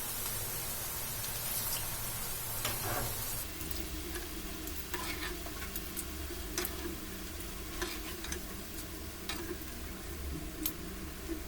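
Potato and semolina snacks fry in hot oil, a steady close sizzle with scattered ticks and pops, joined partway through by light stirring clatter.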